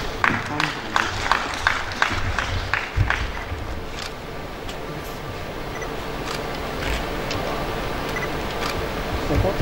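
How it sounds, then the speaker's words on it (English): Applause fills a hall at an annual assembly of registered quantity surveyors: dense, steady clapping from a large audience, with sharper individual claps early on, holding loud throughout. "Please round of applause once more."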